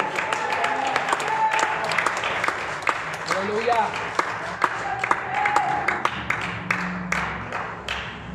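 A church congregation claps and cheers in praise during a service, a steady crackle of many hands with shouts rising over it, while voices talk and call out throughout.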